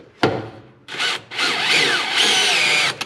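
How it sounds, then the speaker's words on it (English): A power drill drives a screw into car sheet metal while a relay is mounted, with a sharp knock, then a short whir and a longer sustained grinding drill run, loud and close with no talk. "Now we can drill in this screw, just make sure everything fits good,"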